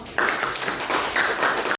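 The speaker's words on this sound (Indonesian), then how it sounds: "Tepuk tangan dong" A class in a vocational school maths lesson claps hands together, a short burst of brisk, close applause that cuts off abruptly.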